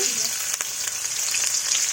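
Chopped onion frying in oil in a karahi, a steady dense sizzle that runs close and loud for the full two seconds with no talk.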